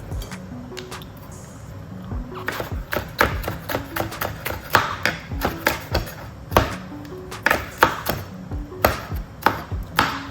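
A knife chops through the last of a red pepper on a board in a home kitchen, a run of quick, uneven taps and thuds that speeds up and grows louder, close by with no talking.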